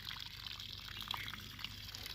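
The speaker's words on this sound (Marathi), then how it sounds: "आपोआप पाणी वाहतं बिना मोटरीचं बोरमधून" Water flowing on its own from a borewell with no motor running after the monsoon, a soft steady rushing trickle heard up close without talk.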